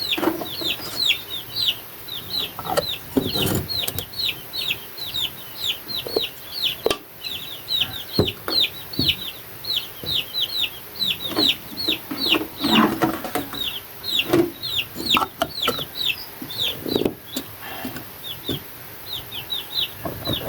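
Three-month-old chicks cheep in a constant stream of high, thin peeps, close and busy throughout, over low background rustling and handling noise.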